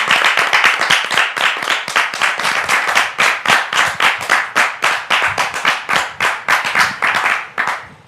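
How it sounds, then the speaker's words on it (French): A live audience claps to welcome a guest onstage at a religious gathering, dense rhythmic applause from many hands, loud and close, sustained for several seconds without speech. "Merci de le recevoir donc sous vos applaudissements."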